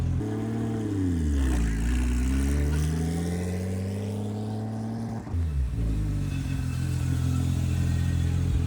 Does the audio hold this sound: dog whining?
no